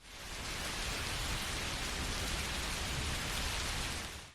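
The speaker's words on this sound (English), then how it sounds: "he heard the rain and the sleet beating outside." Rain and sleet beat steadily outside, a dense, even hiss of drops with no pauses and no voices.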